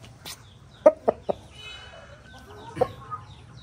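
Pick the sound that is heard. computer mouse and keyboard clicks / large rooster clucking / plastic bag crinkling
large rooster clucking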